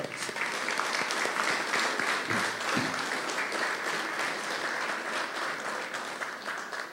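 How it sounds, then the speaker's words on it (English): Sustained audience applause at a public community event, a dense steady patter of many hands clapping at even loudness throughout, with no speech over it. "So I ask you to give our Sports Minister, Glenn Phillip, a round of applause"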